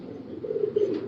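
Pigeons softly cooing close by, a brief low throaty coo rising and wavering, faint and alone.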